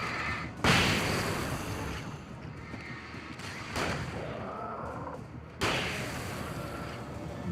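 A flashbang grenade detonating in Alan Wake Remastered: three sharp, loud bursts spread across the stretch, each followed by a noisy ringing wash, with game ambience continuing between them.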